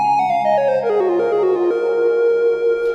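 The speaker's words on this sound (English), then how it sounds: "A synth patch. The flute in the clouds." A Trident MkIII synthesizer playing its airy flute-like "flute in the clouds" patch, a single sustained mono line gliding downward in steps before holding a long, steady note, loud and alone.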